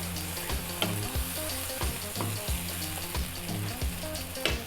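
Can of Heinz baked beans dropped into a hot pan, a close, steady sizzle and bubbling with a few soft stirring scrapes and no talk.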